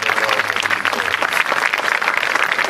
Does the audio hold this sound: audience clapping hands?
yes